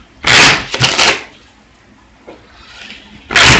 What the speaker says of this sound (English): So let's do another shuffle of the cards